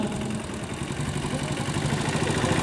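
A 1965 vintage Vespa scooter runs at a classic vehicle rally at Fort William in Kolkata, its engine giving a steady mid-range rumble with a fluttering, continuous idle.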